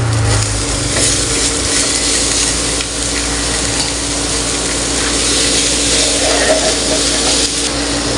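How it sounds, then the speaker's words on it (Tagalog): Ground pork sizzles and fries with onions and garlic in a pan, a steady, loud frying hiss with occasional stirring scrapes throughout, no talking. "Kailangan po natin mag-brown-brown ng giniling"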